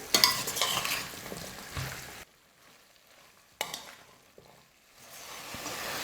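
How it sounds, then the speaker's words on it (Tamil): Masala with yogurt and vegetables being mixed in a pan for vegetable biryani, giving close scraping and stirring over a light sizzle that drops out twice to near silence before resuming. "எல்லாத்தையும் சேர்த்து 1 நிமிஷம் நல்லா மிக்ஸ் பண்ணி விட்டால் போதும்"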